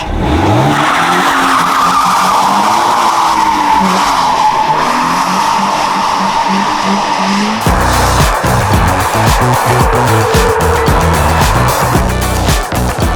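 A Toyota GR86's engine revs hard while tires squeal and skid continuously, the screeching rising and falling through a long drifting run, loud and close.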